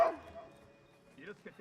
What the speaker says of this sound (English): I'm gonna have to shoot a doggo